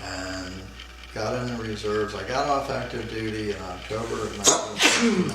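A single sharp sneeze near the end, heard close and loud in an indoor interview with an Army veteran, breaking into steady male speech that runs throughout.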